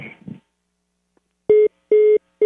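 A telephone is dialed: a brief muffled rustle, a pause, then three loud, clean keypad tones, each held for about a quarter second with short gaps between them.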